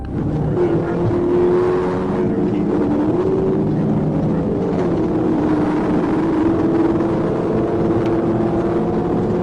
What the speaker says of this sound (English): 3 muscle cars, 2 Challengers and a Mustang street racing down the highway